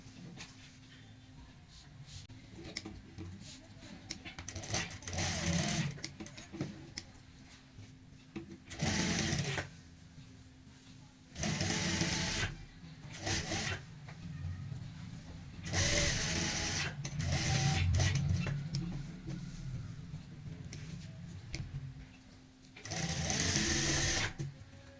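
A sewing machine stitches a neckline design in bursts, its rapid mechanical whirring starting and stopping repeatedly with quiet pauses between runs of stitching.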